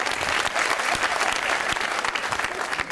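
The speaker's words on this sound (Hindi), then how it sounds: "तालियां यार इसके लिए, तालियां।" A TV comedy talk show studio audience breaks into loud, dense applause, continuous and close, with no gaps across the few seconds.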